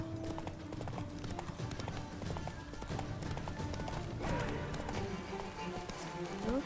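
Roach, the horse in The Witcher 3 video game, gallops with steady rapid clip-clop hoofbeats throughout, set against game music and ambience, with a brief whinny-like rise near the end.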